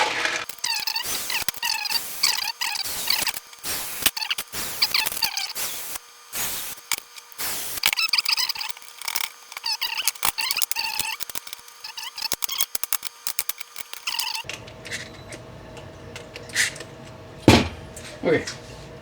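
Small metal clicks, rattles and scrapes of an Allen key and bolts being handled while plastic wheels are fitted together, a dense run of close, irregular ticks and taps followed by a quieter stretch with a couple of sharper knocks.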